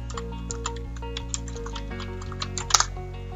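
Keys tapped on a computer keyboard in quick, irregular clicks with a couple of sharper strokes near the end, heard over a steady low background hum.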